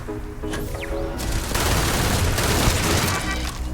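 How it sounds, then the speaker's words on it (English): Rapid bursts of gunfire from a pirate-style weapon fired from the hip in the space game Starfield, loud and dense, running almost continuously over a low rumbling backdrop. "Let's see how it does with hip firing"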